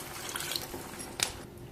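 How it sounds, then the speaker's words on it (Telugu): A glass of water splashes into a pot of basmati rice, a soft, quiet pouring sound with a brief louder splash partway through. "1 గ్లాస్ పోసి వాటర్ అయితే"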